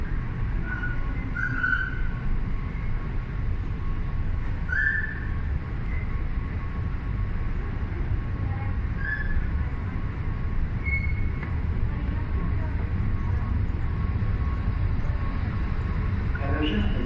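Dubai Metro Red Line train running toward the terminus, a steady low rumble of wheels and motors with faint high squeals and chimes over it, continuous throughout.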